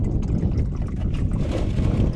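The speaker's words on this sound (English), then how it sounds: "We'll catch a little breeze while I'm changing the oil" Steady outdoor breeze buffeting the microphone in a driveway during an oil change, a continuous low rumbling rush with no talk.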